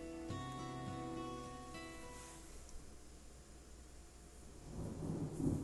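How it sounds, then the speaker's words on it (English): Thunder rumbles through a stormy scene in the video game Deadly Premonition 2, a low swelling roll that builds toward the end beneath fading sustained musical tones, with no speech. "Big black cumulonimbus clouds are in the sky. And that sound. Thunder snow is coming."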